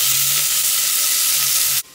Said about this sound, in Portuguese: O fogo daqui, além dele ser forte, tá na boca grande. Então por isso que tava espirrando assim.